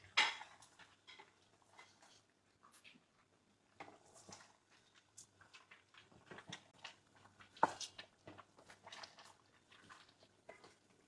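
Fried onions and mawa are stirred in a pot for mutton rezala, with a spoon scraping and clinking irregularly against the pot, soft and close, in scattered bursts with quiet gaps.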